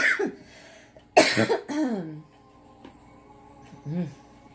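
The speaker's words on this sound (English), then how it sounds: "This cough is killing me" A few harsh coughs burst out close to the mic, a short one first and then a louder fit, followed by a quieter throat sound.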